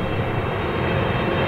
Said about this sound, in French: J'entends rien avec l'avion derrière vous!